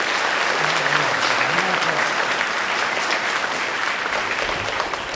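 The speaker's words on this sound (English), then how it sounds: "So please, another round of applause." An audience at a spring school concert keeps up a steady round of dense applause, with faint voices murmuring underneath.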